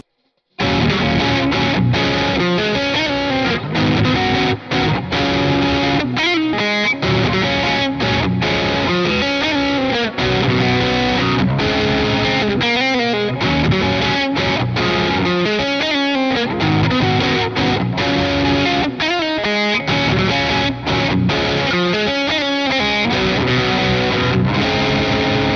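Heavily distorted wide-voiced chords on a Harley Benton ST-20HH active electric guitar ring out loud and continuous, sustained and strummed with dense, saturated high-gain tone throughout.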